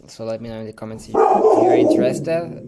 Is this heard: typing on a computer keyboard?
no